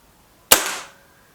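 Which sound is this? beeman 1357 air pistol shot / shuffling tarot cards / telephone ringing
beeman 1357 air pistol shot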